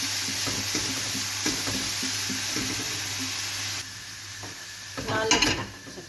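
Ginger garlic paste sautéing in a pan with cinnamon, making a restaurant-style mushroom Patiala, gives a steady sizzle with scattered stirring and scraping clicks, louder in a brief burst near the end.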